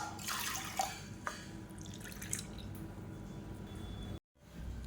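Water poured into washed moong dal for pongal, a steady wet pouring and splashing with a few drips that runs for about four seconds, then stops briefly and resumes.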